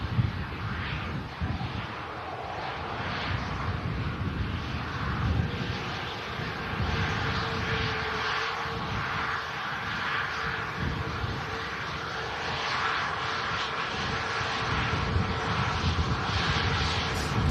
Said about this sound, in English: Icelander Max arriving in.